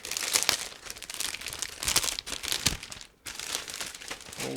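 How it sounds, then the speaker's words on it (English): Crisp plastic crinkling and rustling as a resealable bag is handled and pulled open, steady and close, with a brief pause near the end. "It's a resealable plastic bag, so just give me a second to open it"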